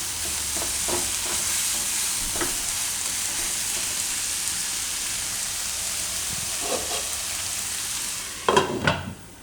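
Tomatoes and tanjariya greens cooking with mung beans in a pan, a steady even sizzle with a few soft stirring clicks, growing into louder scraping knocks near the end.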